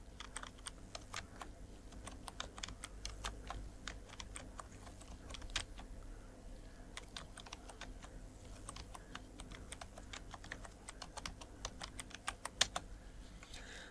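Rapid, steady keystrokes on a laptop keyboard, a dense run of light clicks at close range over a low background hum, with no voice heard.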